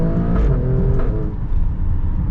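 The engine of an Alfa Romeo Stelvio Quadrifoglio performance SUV pulls hard up an on-ramp. The loud, continuous throaty roar rises in pitch as it revs, heard from inside the cabin.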